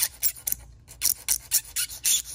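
A cylinder head surface on a 1991-2002 GM Saturn S Series is rubbed flat with quick back-and-forth strokes, about ten close, rhythmic rasping swipes with one short pause.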